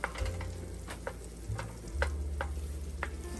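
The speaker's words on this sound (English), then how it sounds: "Once you get your butter nice and melted, you can start adding in your flour." A utensil stirs flour into melted butter in a pan for a crawfish and crab étouffée, giving soft sizzling with periodic scraping strokes, close and steady, with no voices.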